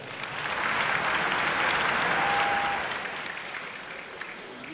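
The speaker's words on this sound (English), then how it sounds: "another resounding applause for a safe fall" Audience applause at a Nigerian Army Day celebration in Jos, greeting army free fallers after a safe parachute landing; a broad, steady wash of clapping that swells, holds, then gradually tapers off, with no talk over it.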